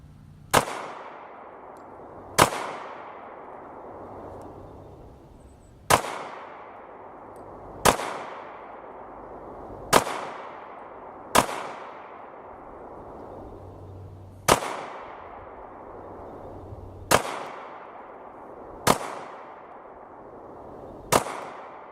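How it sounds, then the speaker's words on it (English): A Sig Sauer P320 Compact .40 S&W handgun fires ten loud, sharp single shots at an outdoor range, each spaced about two seconds apart with a brief decaying echo and no talking. "Okay, we got some warm-up shots in."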